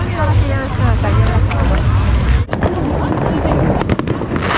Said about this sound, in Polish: Coraz częściej już jakieś takie pojedyncze fajerwerki puszczane są.